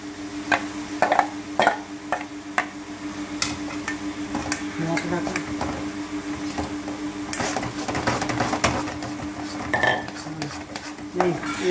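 Boiled papaya being tipped into a pan for a Bengali papaya dhoka dalna, with scraping clinks of utensil on metal and a steady kitchen hum running throughout, several sharper knocks near the start and end.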